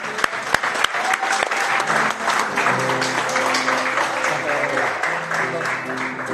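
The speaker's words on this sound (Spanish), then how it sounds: "Un aplauso al Señor." A church congregation applauds at a Sunday service in Mula, a dense steady wash of clapping filling the room throughout, with some voices and sustained tones underneath.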